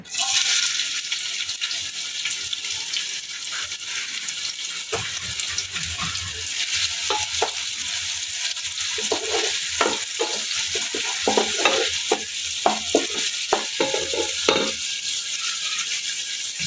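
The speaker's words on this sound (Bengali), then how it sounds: "এখানে আমি বিরিয়ানির জন্য পেঁয়াজ কুচি দিয়ে দিছি, তেল গরম হয়ে গেছে।" Chopped onions frying in hot oil for biryani give a steady, hissing sizzle throughout, with scraping stir strokes and light clatter joining in the second half, close by.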